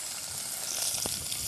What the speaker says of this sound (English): Nice little sizzle.